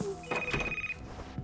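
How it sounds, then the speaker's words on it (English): Electronic telephone ring inside a video game set in a mansion, a steady high tone lasting about half a second followed by fainter ringing pulses, all heard under background game sounds. "I hear a phone?"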